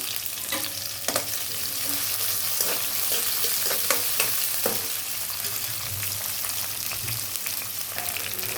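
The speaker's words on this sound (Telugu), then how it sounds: "ముందుగా ఆయిల్ వేసుకొని ఆవాలు, జీలకర్ర, ఉల్లిపాయలండి" Mustard seeds, cumin and onions fry in hot oil for a Telugu-style capsicum curry, giving a steady close sizzle with scattered sharp pops and crackles throughout, no voices.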